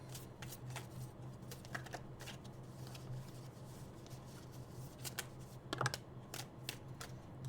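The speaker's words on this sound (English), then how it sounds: "Shuffle a bit more." Tarot cards being shuffled by hand, a steady run of soft riffling and flicking at close range, faint and continuous with a few slightly louder bursts near the end.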